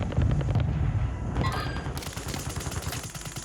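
Gunfire and explosions in the Warzone video game crackle in rapid bursts with heavy booms, loud at the start and then continuing as a dense rattle.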